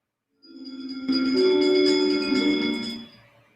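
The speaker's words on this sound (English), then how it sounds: "give us a hint by ringing a bell." A bell rings once and sustains with a clear, shimmering tone, swelling briefly before slowly fading, heard alone during a Halloween story-time event.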